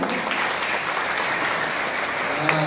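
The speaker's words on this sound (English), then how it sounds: "let's give them an applause" A crowd at a Christian fellowship worship service in Kolkata claps steadily, a dense, even wash of applause at moderate distance that carries on without a break.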